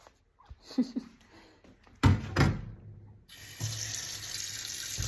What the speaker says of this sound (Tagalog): Yung babanlawan ko lang po tapos ilagay ko na dito sa dishwasher.